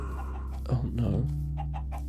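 Chickens clucking in Minecraft, a short burst of a few fowl clucks in the middle over a low steady hum, fairly quiet with no talk.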